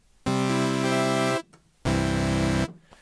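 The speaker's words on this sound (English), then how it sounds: "It's just a straight sawtooth." Surge XT software synth on a plain, unprocessed sawtooth patch: two sustained bright buzzy chords, each held over a second with a brief gap between, loud and alone.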